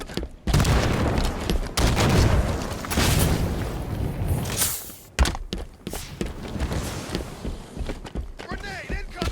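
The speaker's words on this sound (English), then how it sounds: "Throwing grenade." Grenade explosions and gunfire in the Halo 5 video game, a dense, loud stretch of booming blasts and rapid shots with game voice callouts over the action.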